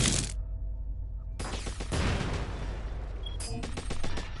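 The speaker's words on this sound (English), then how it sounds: "I was shooting above the target to get the missiles to hit" In the PSVR wave shooter Drone Striker, bursts of loud gunfire and crackling explosions come in two dense volleys separated by a brief lull, close and forceful, with no talking.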